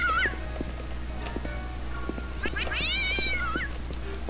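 Cats in a pet shop in the Postal 2 video game: several drawn-out meows, the longest near the end, over a steady low hum and faint ticking.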